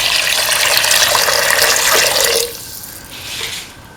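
Roughly 300 ml of water splashes steadily into a pot holding a potato, green pea and coconut rice mixture; the loud, even rush stops after about two and a half seconds, followed by a fainter trickle.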